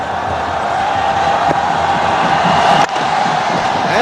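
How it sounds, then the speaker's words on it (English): A large, excited cricket crowd at an India versus Pakistan one-day match fills the stadium with a steady, loud roar of cheering and noise that hardly lets up, with a brief dip near the end. "Listen to the crowd, they're excited."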